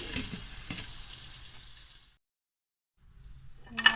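Pork fat frying into chicharon crackles and sizzles steadily in hot oil, then drops to near silence for about a second before a softer sizzle and a sharp clink return.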